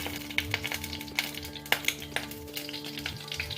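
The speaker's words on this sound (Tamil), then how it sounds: "இப்போ நான் இந்த டைமில் கடுகு போட்டுக்கலாம்." Mustard seeds frying in hot oil in a pan, a steady sizzle broken by sharp crackling pops scattered irregularly across the clip, close by with no talking.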